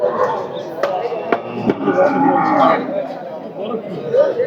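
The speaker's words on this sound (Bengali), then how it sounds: "এই পাশেও রয়েছে অনেক গরু" Cattle, including bulls and heifers, moo repeatedly amid the busy chatter of a crowded cattle market, with a few sharp knocks cutting through the noise.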